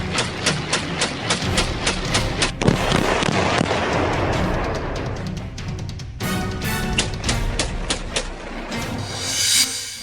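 Rapid AK-47 gunfire in a long, dense run of loud cracking shots, some spaced and some in quick bursts, with no talking.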